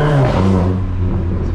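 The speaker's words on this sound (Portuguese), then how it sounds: "o estouro do meu escape, ele é bem alto" A Volkswagen Jetta TSI with a loud aftermarket exhaust tuned to sound like a Golf GTI revs hard in first gear, a close, loud engine roar that falls away as the car pulls off.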